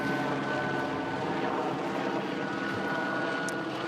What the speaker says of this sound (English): He was actually hovering over, just looking at me, that bloody helicopter.